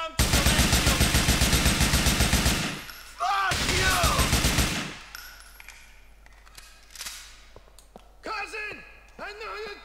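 Rapid bursts of automatic gunfire in GTA IV, loud and sustained for a few seconds, then a second burst, followed by scattered pings and game sounds under a man's speech.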